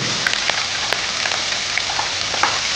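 Capsicum sautéing with turmeric and chili powder in a pan for cauliflower keema, a steady close sizzle and crackle with small pops throughout.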